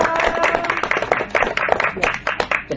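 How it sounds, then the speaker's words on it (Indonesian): Group of people clapping hands at a vocational high school gathering in Tabalong, a dense, steady patter of claps filling the room with light crowd noise. "Tepuk tangan dulu dong."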